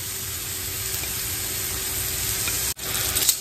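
Meatballs browning in a frying pan, giving a continuous close sizzle with a brief break near the end before the frying noise resumes.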